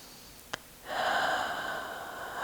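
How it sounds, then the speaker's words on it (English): A deep breath taken during a yoga practice, a long airy inhalation-like rush that swells after a brief click and holds steadily to the end, close and fairly soft, with no talking. "We'll take a breath here."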